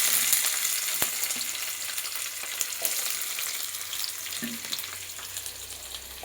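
Onions sizzling loudly in hot oil in a home kitchen, a dense continuous crackling hiss with occasional small pops and stirring touches, no talking.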